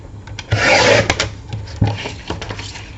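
Paper for a mini album being trimmed on a cutter, with a short rasping slide of the blade followed by a few quieter scraping passes and small knocks, close and alone.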